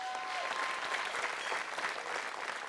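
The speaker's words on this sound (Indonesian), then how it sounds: "Terima kasih buat tepuk tangan untuk Nada Bandung." Studio audience applauds a contestant on a televised Islamic preaching competition, a dense steady wash of clapping that holds loud and even throughout with a faint tonal trace early on.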